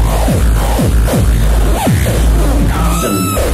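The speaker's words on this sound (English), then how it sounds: "Does your drum machine sound like this?" Drum machine at a hardcore music live set: hard, pitch-dropping kick hits in a steady pulse over a noisy, distorted bed, ending with a tonal buzz, loud and dense.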